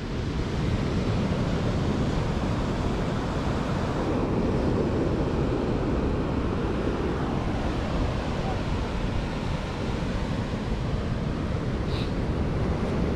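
Ocean waves and surf during an open-sea swim, a continuous broad wash of water and wind rumble at a steady, moderate level throughout.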